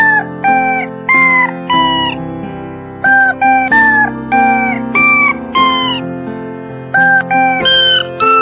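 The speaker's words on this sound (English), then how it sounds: "it is the duck, the chicken" A played recording of a chicken: loud, squawking clucks rising and falling in a sing-song, tune-like run of about a dozen calls over eight seconds, with no talking over it.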